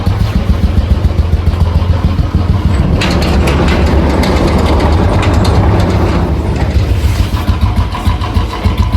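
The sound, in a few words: motorcycle engine idling after cold start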